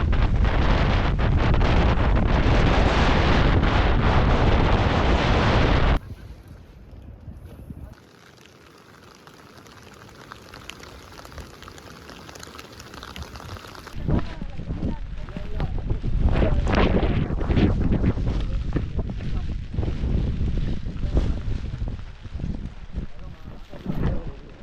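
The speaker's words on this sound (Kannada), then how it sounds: "ಮೇಲೆ ಹೋದ ತಕ್ಷಣ ಸಿಕ್ಕಾಬಿಟ್ಟೆ ಗಾಳಿ" Strong wind buffets the microphone on a hilltop in the Perur Hills of Coorg, roaring loud for the opening seconds, dropping to a quieter rush, then gusting up again in rough, uneven bursts.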